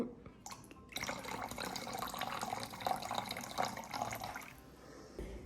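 Water runs into a bottle already holding white vinegar, filling to about 500 ml: a steady, splashy pour lasting a few seconds, quiet and close, then stopping, with no voices.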